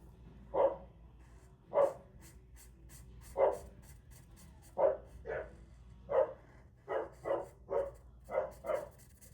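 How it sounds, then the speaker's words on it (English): A neighbour's dog barks repeatedly outside, distinct single woofs spaced a second or so apart, then quickening into a faster run of barks, moderately distant with faint background noise. "Again, I apologize for my neighbor's dog."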